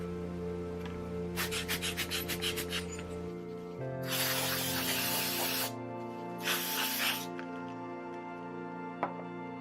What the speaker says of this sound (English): What I've got is kind of compressed air and one of these rocket blowers.